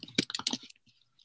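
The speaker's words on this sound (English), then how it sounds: "So we're going to type in our project name here" Typing on a computer keyboard: a brief, close burst of rapid key clicks followed by a few softer, scattered taps.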